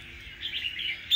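Wild-caught red-whiskered bulbul from Cao Bằng giving a short, bright run of high chirps, close and clear, ending in a sharper note.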